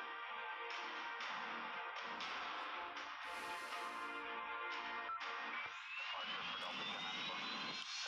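Steady whine and roar of Boeing 777 jet engines in the AirLine Commander flight game, continuous and even throughout, with a rising tone toward the end and no talking.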